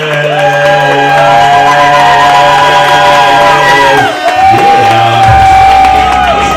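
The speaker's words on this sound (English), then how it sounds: "Everybody start clapping." A crowd at a jazz step class event at The Mist cheers and whoops for the host, loud sustained shouting with tonal voices and some music-like tones running underneath, briefly dipping near the end before resuming.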